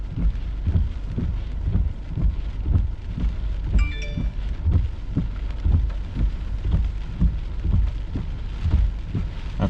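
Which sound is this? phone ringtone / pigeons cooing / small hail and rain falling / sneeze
small hail and rain falling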